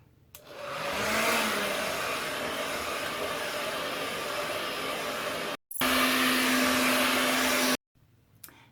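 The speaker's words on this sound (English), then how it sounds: "now I am blow drying my hair. It says to do this on medium heat till it's completely dry." A hair dryer on medium heat blows hair dry during a keratin straightening treatment: a loud, steady close-up roar that cuts out briefly twice, with no talking.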